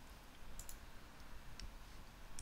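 Mouse clicks on a computer during software editing of an email template, a few faint, sharp clicks spaced irregularly over a low background hiss with no talking.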